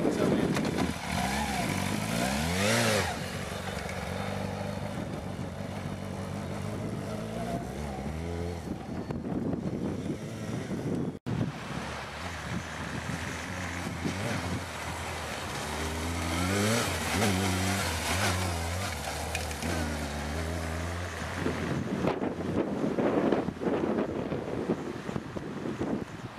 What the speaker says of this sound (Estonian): 99. aastast pärit, Kawasaki ZR7.